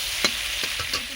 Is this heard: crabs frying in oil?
yes